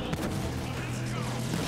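Gunfire from Halo 5: Guardians sounds as a continuous, muffled barrage of shots and booms during a mission, steady and fairly loud without clear breaks.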